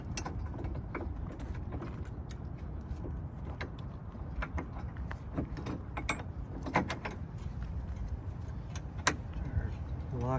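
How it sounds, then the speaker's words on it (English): A metal locking pin slides into a Roadmaster Nighthawk tow bar hitched to a tow vehicle, producing scattered close clicks, clinks and scraping metal over a low outdoor rumble. "Slide our pin in."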